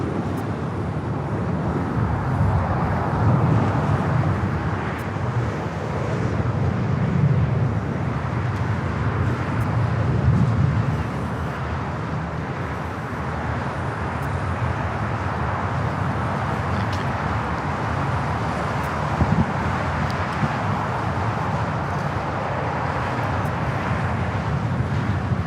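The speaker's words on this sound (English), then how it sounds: "Singapore Airlines. That's flight 11 off to Tokyo Narita on the 777-300ER." A Singapore Airlines Boeing 777-300ER taking off from LAX produces a sustained, heavy jet roar, a steady broad rumble that swells slightly and holds for a long stretch, with faint distant airport noise mixed in.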